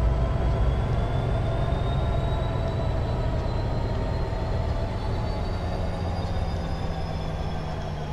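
Union Pacific SD70ACe diesel locomotives in Train Simulator 2020 work under power: a steady, loud low engine drone with rail rumble and faint high squeals, continuous with no talk.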